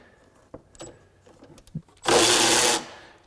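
A Milwaukee M12 FUEL high-speed ratchet spins up to loosen a battery cover, one loud, harsh whirring burst of under a second after a few faint clicks and taps.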